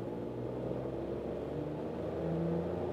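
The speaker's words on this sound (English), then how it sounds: "let's say from 30 to 50 in second gear. Let's go now." A Seat Mii car accelerates from 30 to 50 in second gear, heard from inside as a low engine drone with a gradually rising tone, muffled and steady throughout.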